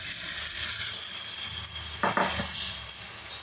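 Cluster beans tipped into a pan of cooking tomatoes for Bangalore-style kothavarangai gujju, giving a steady loud sizzle and frying hiss with a brief burst of stirring and clatter partway through.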